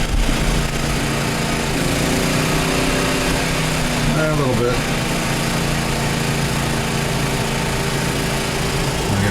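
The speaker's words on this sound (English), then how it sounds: "There it is, running. Generator does not appear to be struggling." A Harbor Freight Predator 4400W generator runs steadily under load powering lights, air conditioning and a TV, a loud constant engine drone with no surging, while someone speaks briefly nearby.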